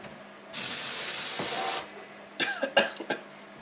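A benchtop sandblaster sprays: a loud, steady hiss of pressurized air blasts for about a second, then cuts off, followed by a few short hissy bursts.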